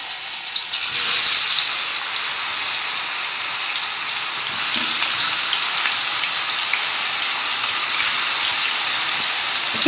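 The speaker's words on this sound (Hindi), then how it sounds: "ये चिप्स आहिस्ता आहिस्ता ऐड करेंगे इसमें" Potato slices for mayo chips drop into hot oil and fry with a steady, dense sizzle that jumps up after the first second and holds loud and close, with no talking.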